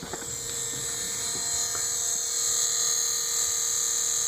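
The repaired heater blower motor of a 1996 BMW 328is spins with a steady, high-pitched electric whine and whir, close and continuous, with no talking.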